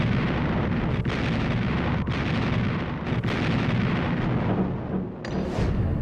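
The battleship USS Texas fires its main guns, hurling 1,275-pound shells in a dense roaring barrage. Heavy booms land roughly once a second over constant rumbling.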